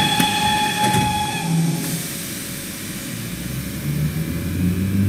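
Train simulator S-Bahn run on a DB Class 420 electric multiple unit in Munich, line S6 toward Tutzing: a steady rail rumble with a brief high whistle-like tone near the start, continuous and fairly close, with no talking.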